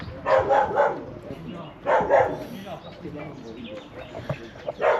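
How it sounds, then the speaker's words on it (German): Several dogs bark in short bursts at close range aboard a boat, mixed with a person talking. "die Hunde eskalieren"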